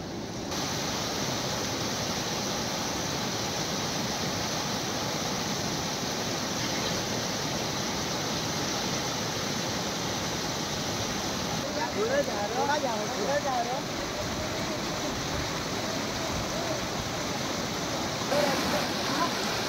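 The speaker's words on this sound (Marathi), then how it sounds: "डांग जिल्ह्यामध्ये पावसामुळे आता अंबिका नदीला पूर आलेला आहे" Floodwater of the Ambika river in Dang district, swollen by heavy rain, rushes in a steady, loud, broadband roar that holds constant throughout, with faint voices briefly audible in the background.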